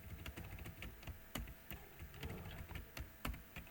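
Fingers type on a computer keyboard with quiet, uneven clicking keystrokes, some sharper taps standing out, recorded faintly and close with no talking.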